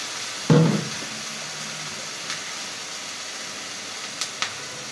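Onion and ginger-garlic paste frying in a pan for a soya chunk curry, giving a steady sizzling hiss throughout with a sharp burst near the start and a few faint clinks later.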